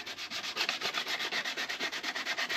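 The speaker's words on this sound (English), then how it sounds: "Another quick sanding, make sure we got all that lacquer off," Rapid back-and-forth sanding strokes taking lacquer off a billhook's wooden handle, close and fairly soft, in an even scratchy rhythm with no voices.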